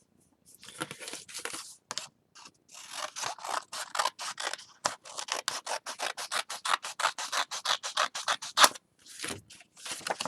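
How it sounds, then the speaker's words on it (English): Scissors snipping through a sheet of paper up close, a quick run of crisp rhythmic cuts with short pauses, growing denser and steadier toward the end, no talking. "we're going to just cut and we'll have a perfect square"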